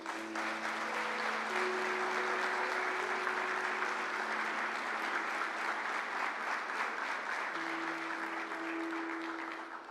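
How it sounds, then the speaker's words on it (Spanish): A church congregation applauds the grandparents at a service: continuous, even clapping from many hands at moderate distance, with steady tones from an organ or keyboard held beneath it. "Un aplauso para los abuelos"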